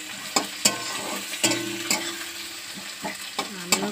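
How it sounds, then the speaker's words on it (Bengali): Fish sizzles as it fries in a pan, giving a steady hiss broken by sharp clacks of a utensil against the pan, with a faint hum underneath. "মাছটা ভেজে"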